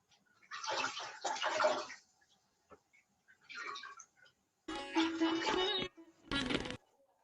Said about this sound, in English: from your foot soak with the extra water and flush away the water